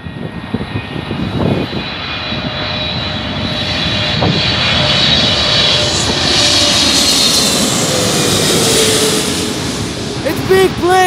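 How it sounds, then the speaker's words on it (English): A big jet airliner roars overhead at LAX, its engine noise swelling and lingering loudly, with a whining high tone over a broad rushing rumble. "Guys, there's another plane. Oh, it's massive."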